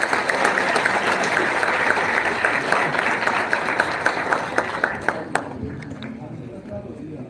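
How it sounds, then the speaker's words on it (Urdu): Audience applause at a calligraphy competition prize ceremony, a thick burst of clapping that stays full for several seconds, then thins into scattered individual claps near the end. "تالیاں ہونی چاہیے بہت ساری."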